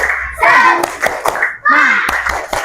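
A class of children doing the rhythmic clapping chant tepuk semangat in an Islamic education lesson, with sharp claps in bursts between loud chanted voices.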